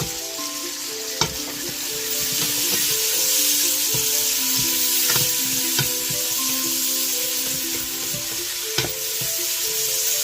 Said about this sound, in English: Once you smell the garlic, go ahead and put the onions.